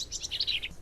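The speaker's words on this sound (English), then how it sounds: "We've got a robin singing over there." A robin sings outdoors, a brief run of thin, high, rapid warbling notes, faint and at some distance over quiet background noise.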